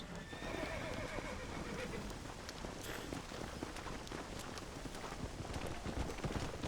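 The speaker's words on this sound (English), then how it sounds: "Let's find where our horse went." Horse whinnies and galloping hoofbeats from the Red Dead Redemption video game, a neigh up front followed by rapid, steady clip-clop running throughout, moderately faint.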